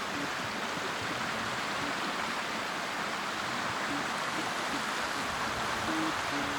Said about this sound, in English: You can probably hear a running brook down there.